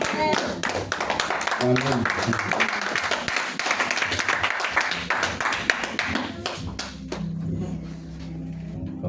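Congregation in a church worship service applauding together, a dense sustained clapping that fills the room, with voices calling out over it before it thins and fades near the end.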